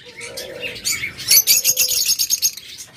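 Adult lovebirds chirp and twitter rapidly up close, bright repeated calls overlapping with a low cooing underneath.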